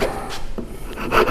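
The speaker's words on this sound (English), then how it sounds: "But first, let me cut the one that the saw can cut." A hand saw cuts wood in a woodworking practical with short rasping strokes. The strokes are close and fairly loud, with brief pauses between them.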